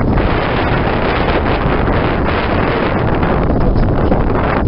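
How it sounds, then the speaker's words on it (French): A light sea breeze buffets the microphone aboard a sailboat gliding between islets, a loud, steady broadband rush of wind with faint water movement beneath, continuous and without voices. "il y a une bonne petite brise, parfaite pour se balader entre ces îlots"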